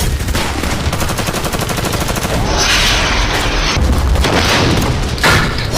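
Bombing and gunfire in Syria: rapid bursts of automatic fire and heavy booms crackle loudly and continuously, close and harsh, with no talking.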